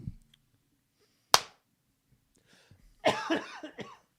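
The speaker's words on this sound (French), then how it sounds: "Commence à tousser." A person coughs in a quiet room: one sharp, short cough, then after a pause a longer throaty cough with voiced rasp.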